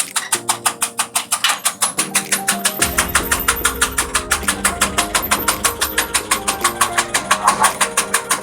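A grinding machine runs steadily in a small village processing workshop, giving a loud, rapid mechanical pulsing with a regular beat and tonal hum, alone without voices.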